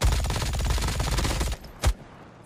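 Mythic MG42 machine gun in the mobile shooter COD Mobile firing a rapid, continuous burst of close, loud shots for about a second and a half, then stopping, followed by one short, sharp report.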